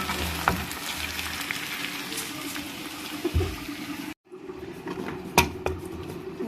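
Taro root and chicken frying in a pan with chaat masala and salt, a steady sizzling hiss that runs continuously with brief bursts of stirring and a short pause midway.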